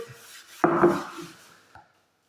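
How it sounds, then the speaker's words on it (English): A gritty 3M scrubber pad rubs across stained wood in one short, raspy stroke lasting under a second, close by, followed by a faint lighter scuff. "this is just a scrubber pad. It's got a little bit of grit to it."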